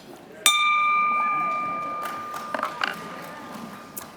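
A single bell struck once at a dinner event rings out sharply and keeps a clear, slowly fading tone for several seconds, while faint clinks of tableware and quiet room murmur follow.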